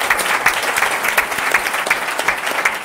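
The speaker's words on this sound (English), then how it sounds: "Let's give a round of applause." An audience at a hip hop and R&B panel discussion breaks into a steady, fairly loud round of applause, dense overlapping claps filling the room without speech.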